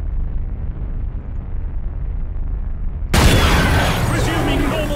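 Torpedo explosions in the space battle game Battlefleet Gothic: Armada: a low rumbling ambience suddenly broken by a loud, sharp burst that keeps roaring and crackling afterward.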